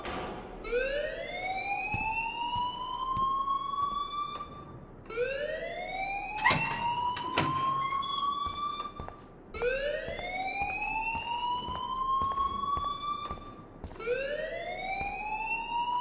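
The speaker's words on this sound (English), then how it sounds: "please turn off that alarm since that's your job" A wailing siren-like alarm in the video game Life is Strange sweeps upward again and again in a slow repeating rise, loud and steady, with a brief ringing clang partway through.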